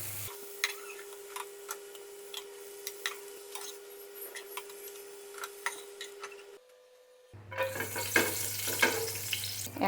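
Bitter gourd slices frying in a little oil in a pan, giving a soft steady sizzle with scattered ticks and pops, then a louder, brighter hiss toward the end.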